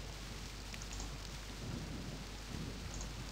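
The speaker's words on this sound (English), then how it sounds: "Ah, it's thunder! I don't like thunder." Rain and rolling thunder in the video game Myst, a steady wash of rainfall with low rumbles building beneath it, continuous and fairly quiet with no voices.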